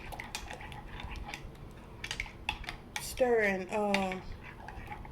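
Fragrance oil being stirred into melted soap, a spoon clinking and tapping against a container in quick irregular strikes, followed by a short stretch of talking near the end.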